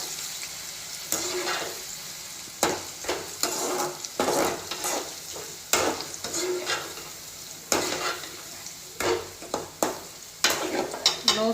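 Chillies and garlic frying in a pan on a low flame, a soft continuous sizzle broken by repeated scraping stirs of a spoon against the pan.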